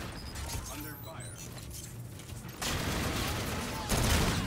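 Gunfire in the video game Battlefield 2042, with bursts of shots and a steady wash of battle noise that grows louder partway through and again near the end, beneath faint in-game chatter.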